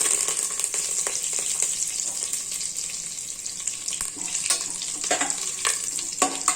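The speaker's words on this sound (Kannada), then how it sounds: "ಹಾಗೆ 1 ಸ್ಪೂನ್ ಜೀರಿಗೆ ಮತ್ತು ಕರಿಬೇವಿನ ಸೊಪ್ಪನ್ನ ಹಾಕೋತಾ ಇದ್ದೀನಿ." Cumin seeds and curry leaves sizzle in hot ghee with a little oil in a cooker, a steady bright crackle with scattered pops and stirring clicks, close and moderately loud.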